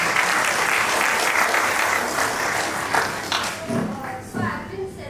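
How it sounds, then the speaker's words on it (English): Audience at a panel discussion applauding a speaker, a dense burst of clapping that fades into scattered claps, with faint voices near the end. "First of all, a clap for her."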